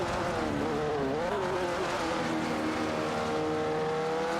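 Race cars in an AI racing video game, including a Ferrari 365 GTB, roar continuously at high revs with shifting engine pitch, loud and close, with no talking.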